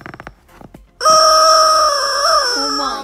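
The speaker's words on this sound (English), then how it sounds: "Listen to that chicken." A noisy chicken squawks in one long, loud, strained cry that holds steady and then wavers downward, preceded by a few short clucks.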